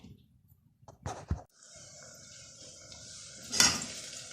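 Onions sauté in a pan for beef keema karahi, with two sharp clinks of a utensil against the pan, then a soft steady sizzle and a louder scraping stir near the end.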